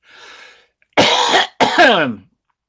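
A soft breathy exhale, then two harsh coughs in quick succession, close and loud in a quiet room.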